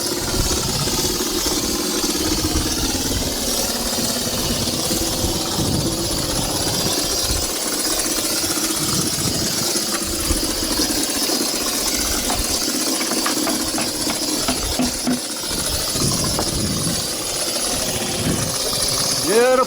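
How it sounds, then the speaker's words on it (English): Air compressor running while stucco is sprayed onto walls, a loud, steady mechanical engine drone with rattling pulses and bursts of spray hiss, close by, with people talking over it. "Even with this crappy compressor."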